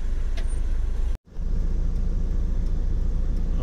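Road traffic outside Pune railway station, heard from inside a bus: a loud, steady rumble of engines broken by a brief drop-out about a second in, then the same dense traffic noise continuing.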